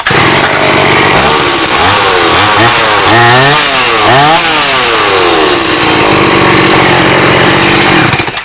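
A new Stihl 180 chainsaw engine revs hard and loud, its pitch sweeping up and down in repeated surges before settling back to a steady high whine.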